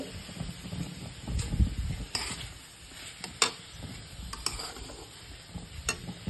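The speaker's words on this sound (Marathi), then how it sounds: "कढईमध्ये आपण कांदा आणि टोमॅटो परततोय" Onion and tomato sizzle in a kadhai as they are stir-fried for mutton rassa, a steady frying hiss broken by scraping stirs and occasional sharp clinks of a spatula against the pan, close and moderately loud.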